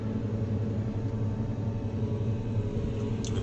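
Fendt 724 tractor engine running steadily under load while ploughing a field, a loud, continuous low droning rumble with even tone throughout, no talk.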